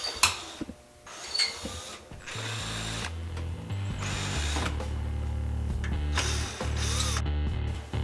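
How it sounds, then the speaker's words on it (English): A power screwdriver backs screws out of a headlight housing on a Nissan S13 240SX, giving repeated short ratcheting whirs separated by brief pauses, close and fairly quiet. "just take the 4 screws out, 2 on either side, and they will pop right off"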